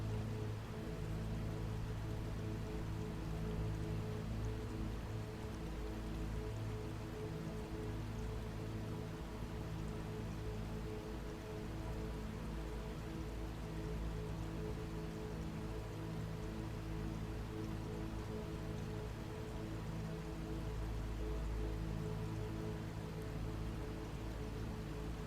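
Steady, soft rain-like water noise from falling water around a pool beneath a waterfall, a continuous even wash of drops that stays faint and unchanging throughout, with no voices.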